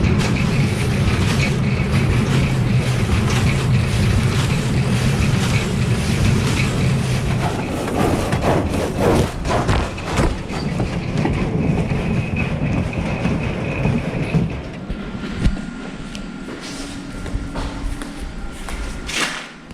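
A Variobend metal brake, a custom trim bender at a metal sales shop, runs loud and steady from close inside the machine, with rumbling mechanical noise and clanking that thins out and quiets toward the end.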